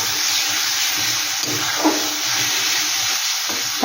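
Bhetki fish-bone chachchari with garam masala is stirred in a frying pan, giving a loud, steady sizzling hiss close up with soft scraping movements now and then.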